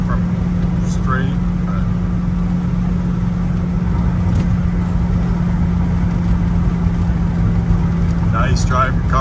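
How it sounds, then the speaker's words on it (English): A 1966 Chevrolet El Camino drives down the road, its exhaust giving a steady, moderate drone beneath someone talking inside the car. "Exhaust isn't overwhelming, just nice little sound to it."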